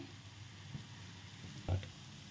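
Besan chilla batter with paneer and vegetables sizzles steadily in a hot pan, a soft continuous frying hiss close by with a brief louder crackle.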